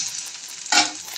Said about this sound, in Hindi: मिनट हाई फ्लेम पे चलाते हुए इसको हमें कोटे कर लेना है।